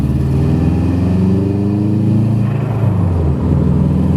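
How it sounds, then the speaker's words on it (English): Car engine revving hard and building up, with turbo whistle and flutter noises as the revs rise and drop back, loud and close with no talking. "Makes cool turbo noises. Makes a little flutty."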